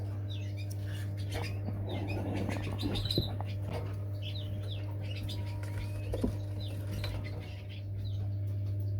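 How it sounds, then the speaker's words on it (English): Small finch-like aviary bird in a flight enclosure, giving faint scattered chirps and brief wing flutters over a steady low mechanical hum. "And it's a nice little bird."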